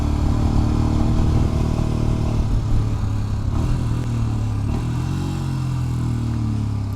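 Royal Enfield Scram 411 scrambler motorcycle being ridden, a steady loud single-cylinder engine drone with wind and road rumble, the engine note shifting slightly as speed changes.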